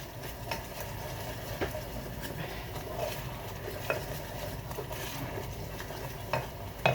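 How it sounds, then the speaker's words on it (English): Steady sizzling of food frying in a pan, a constant crackling hiss with occasional light clinks of a utensil, close up and with no voices. "Let that sizzle away,"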